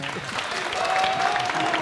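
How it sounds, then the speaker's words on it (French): Studio audience applause on a French-language TV variety show, a short dense burst of clapping with voices mixed in underneath and a thin steady tone running through it. "Merci de faire beaucoup d'applaudissements."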